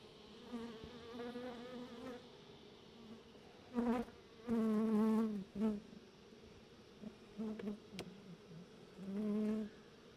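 Honeybees buzz around an open hive during a Varroa mite treatment check, a steady close hum that swells into louder passes as individual bees fly near, with no talking.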